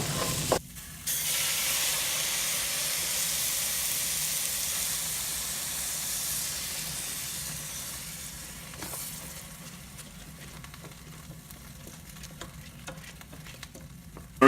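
Scallop risotto simmering with stock in a pan while being stirred, a loud, continuous sizzle and hiss that dips for a moment early on, then gradually softens into a quieter bubbling with scraping from the stirring.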